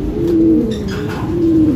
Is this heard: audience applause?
no